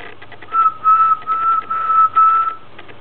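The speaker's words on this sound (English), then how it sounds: "Just let me whistle for a bit." A person whistles into an amplifier setup, producing five clear sustained whistled notes in a steady rhythm, close and loud, with no talking.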